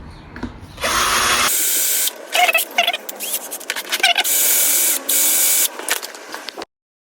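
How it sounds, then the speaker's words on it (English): A cheap Chinese Amazon drill bores holes through a go-kart panel, giving loud harsh whirring bursts that start and stop several times at close range. "Doing these holes was actually a surprisingly hard job, especially since the drill is just a NAF China Amazon kind of drill."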